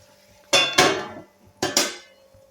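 A metal lid is set onto a cooking pan of green chickpea stir-fry, giving two close pairs of sharp clanks with ringing decay in a quiet kitchen.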